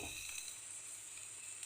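Onions frying in a pan with salt and turmeric for a soya curry give a steady, close sizzle that stays even and unbroken throughout.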